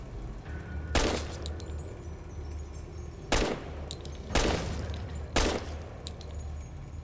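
Pistol shots aimed at radroaches in Fallout: Tale of Two Wastelands, four sharp single cracks spaced a second or two apart over a low steady hum.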